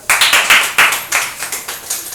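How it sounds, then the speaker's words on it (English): A classroom audience claps for a student speaker, a brisk run of loud, close handclaps that rises sharply and then settles into a steadier, slightly fading patter over a couple of seconds. "So very nice clapping for Richa."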